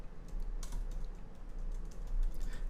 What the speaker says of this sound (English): I can click custom and type whatever I want to.